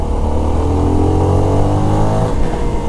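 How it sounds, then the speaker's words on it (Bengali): A Kawasaki-style NK250 motorcycle with an underbelly exhaust hums steadily while being ridden, a loud, continuous mid-pitched engine drone with slight rises in revs and no speech. "এটার মধ্যে এক্সস্ট সম্ভবত আন্ডার বেলি, অ্যান্ড সাউন্ড বাইক চালাইতে গেলে অতটা ফিল হইতেছে না, হালকা সাউন্ড লাগতেছে"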